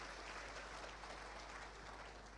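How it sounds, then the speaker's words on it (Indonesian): A church congregation claps together in steady, sustained applause, faint and distant, with no voices over it. "Boleh tepuk tangan buat Tuhan Yesus."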